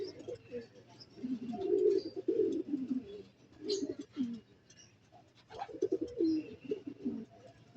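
Doves coo softly in repeated low, throaty phrases, with a faint background hum and occasional small chirps between calls.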